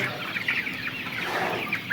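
Several 28-day-old Tiger breed chickens cluck and chirp close by in short overlapping calls over a low background hum.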